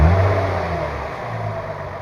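An Infiniti G35 Coupe with a P2A00 oxygen-sensor fault code revs to about 2,000 RPM, its engine note loud and close, swelling briefly and then holding a steady drone with no voices.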